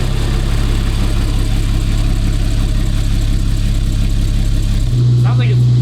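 A Ferrari twin turbo V12 settles into a loud, steady idle just after start-up, with a deep low rumble throughout and a shift in the engine note near the end.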